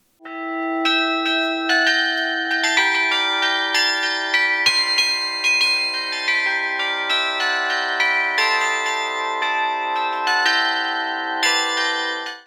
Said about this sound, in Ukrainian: Мелодії дзвонів на карельйоні відтворювали не лише студенти та викладачі, а й професійні музиканти.